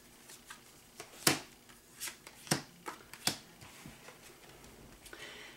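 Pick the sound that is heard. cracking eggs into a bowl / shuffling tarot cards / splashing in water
shuffling tarot cards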